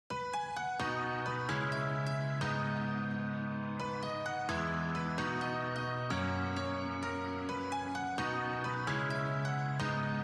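A bright electronic dance-festival melody of plucky synth notes plays steadily over a sustained bass and pad, loud and continuous with no voices.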